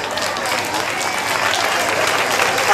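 An audience at a village saint's-day festival applauds loudly, continuous close clapping with crowd noise that swells slightly toward the end.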